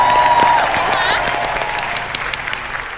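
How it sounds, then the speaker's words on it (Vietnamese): Audience applause and cheering at a lively karaoke party, a sustained crowd clapping that starts loud right after a song ends and gradually fades, with a brief voice sounding early on. "Vỗ tay đồng nhiệt."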